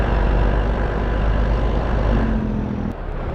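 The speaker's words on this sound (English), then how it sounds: "the old engine brake, Jake brake sound is back" A heavy truck engine rumbles steadily in a video game, then a low droning engine-brake (Jake brake) blat sets in near the end, loud and close throughout.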